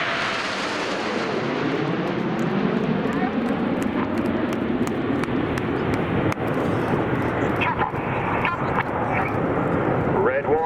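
Aircraft flying over in battle formation at the RAF Cosford 2019 airshow, a loud sustained jet roar that sweeps past with a falling pitch, with a commentator talking over it.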